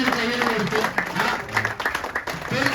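An audience applauds as executives are welcomed onto a stage. Short, moderate clapping runs under a host's continuing talk.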